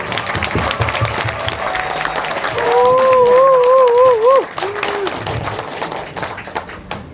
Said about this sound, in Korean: 여러분, 오늘 이렇게 소중한 자리 빛내주신 우리 강 위원, 상호 총장님께 다시 한번 큰 박수로 부탁드립니다